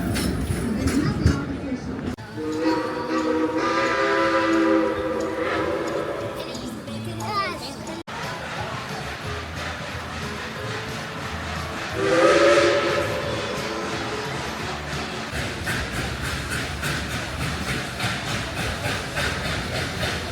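Two long steam whistle blasts over a hissing, rumbling steam train arriving at a station at night, with background chatter, the second blast louder and nearer.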